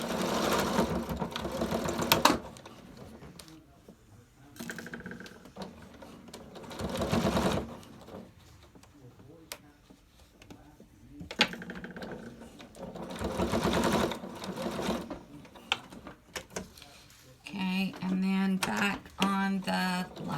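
A home sewing machine stitches around the edge of a ribbon face mask. Its motor whirs in several steady runs of a few seconds each, stopping and starting between pauses. A person speaks during some of the gaps.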